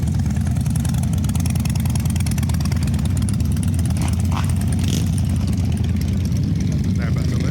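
Motorcycle engines idling at a bike night, a V650S alongside a dirt bike, a loud steady low rumble throughout with crowd chatter and voices mixed in.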